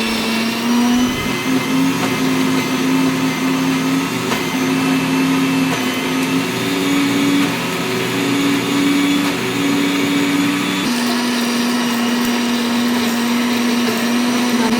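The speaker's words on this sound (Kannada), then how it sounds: "ಈಗ ನಾವೇನು ಫ್ರೈ ಮಾಡ್ಕೊಂಡಿದ್ದೀವಲ್ಲ ಅದನ್ನ ಎಲ್ಲ ಮಿಕ್ಸಿಗೆ ಹಾಕ್ಕೋತಾ ಇದ್ದೀವಿ ಫಸ್ಟು." A kitchen mixer grinder pulverising fried lentils and garlic, a loud continuous motor whine holding steady for the whole stretch with slight pitch shifts as the load changes, close by and with no voices.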